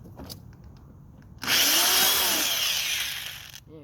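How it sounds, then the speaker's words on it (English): A power drill bores a hole in a Ram 3500 truck, with quiet handling noise before a loud whirring burst that runs about two seconds, winds down, and stops abruptly. "I'm going to drill another hole."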